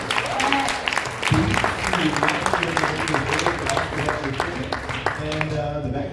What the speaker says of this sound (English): just a really quick round of applause for Anna Kura